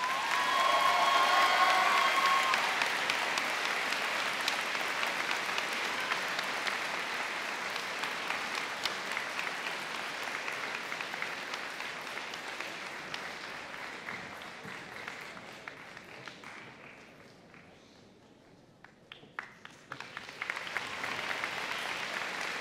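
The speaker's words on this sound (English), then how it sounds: "we'll go a round of applause for Samuel." Audience applause at a high school senior convocation ceremony, sustained clapping from a large crowd that swells loud at first, eases slightly, dips briefly near the end, then picks back up.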